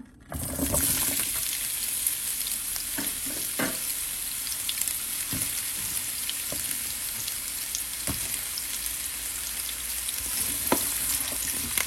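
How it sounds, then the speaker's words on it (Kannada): Cut bitter gourd pieces fry in hot oil, a loud, steady close sizzle with scattered crackles and pops throughout, no talk. "ಎಣ್ಣೆ ಬಿಸಿ ಆದಮೇಲೆ ಈ ಕಟ್ ಮಾಡಿರೋ ಹಾಗಲಕಾಯಿ ಪೀಸಸ್ನ ಇದಕ್ಕೆ ಹಾಕೋಣ"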